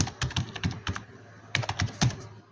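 Rapid keystrokes on a computer keyboard as a folder name is typed in Windows 10, clicking in irregular bursts with a short pause midway, close and fairly loud, no voices.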